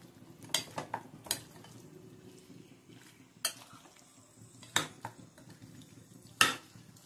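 Intermittent scraping and clinking of a utensil against a bowl as mourola fish is mixed by hand with turmeric and raw mustard oil, with soft rhythmic stirring between the louder knocks.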